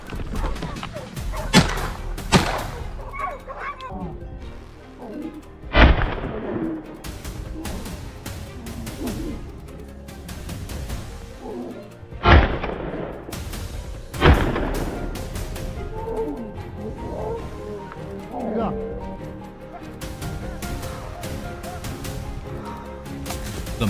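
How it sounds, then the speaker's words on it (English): Hunting rifle shots ring out during a wild boar hunt, several sharp loud cracks spaced across the stretch amid thumps, rustling and movement, with other sounds in between. "After the thunderous gunshots, the wild boars seemed startled and began to flee in a panic."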